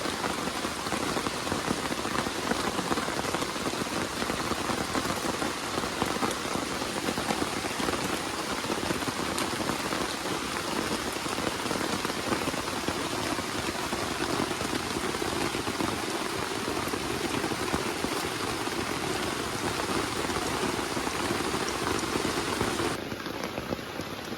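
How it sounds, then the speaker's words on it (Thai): Heavy rain falls on a rainy-season campsite in a constant, loud, dense patter of drops that continues with little change until a slight shift near the end. "ฝนเริ่มเบาลงหน่อยนะครับทุกคน"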